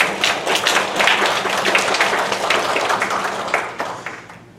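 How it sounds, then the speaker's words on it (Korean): A congregation at a special church revival service claps in thanks to God, a full, dense round of applause from many people that gradually thins and fades toward the end. "우리 하나님께 감사의 박수를 드리겠습니다."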